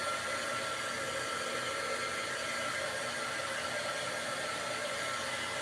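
A hair dryer blows continuously on a painted stencil during a craft session, a steady close whooshing hum with no breaks or talk.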